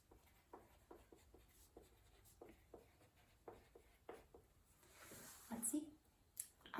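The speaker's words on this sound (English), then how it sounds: "So I'm going to also write down" Pen writing a list on paper during a counseling session, soft scratchy strokes in short bursts, close and faint, with a brief louder scrape toward the end and quiet talk in the background.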